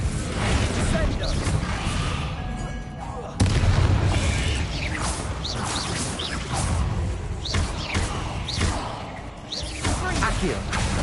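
Fire spell casting in the video game Hogwarts Legacy amid a dense magical battle, with repeated booms, whooshes and bursts layered over loud continuous game sounds, no voices.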